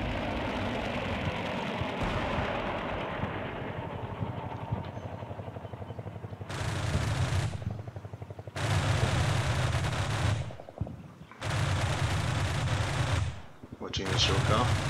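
Missiles being fired in a Minecraft-style video game, a burst of harsh, noisy whooshing blasts that cut in and out in several bursts, loud and close over a busy game background.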